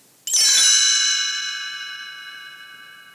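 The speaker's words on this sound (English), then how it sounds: "You will know it is time to turn the page when you hear the chimes ring like this" A single page-turn chime from a children's audiobook rings out clearly and decays slowly, a bright bell-like tone fading over about three seconds.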